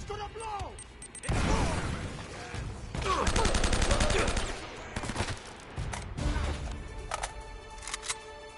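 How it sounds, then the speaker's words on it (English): Gunfire in Uncharted: Drake's Fortune comes as loud rapid volleys and bursts of shots mixed with crashing impacts, recurring in waves across the stretch, with a person talking in between. "Who's doing all this shooting?"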